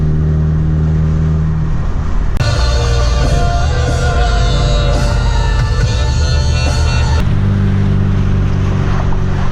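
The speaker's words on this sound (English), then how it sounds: "This thing is idling wicked weird right now." A Honda car engine idles unevenly with a low, throbbing hum. A louder, rushing burst like revving or passing traffic swells over it through the middle, then the rough idle returns.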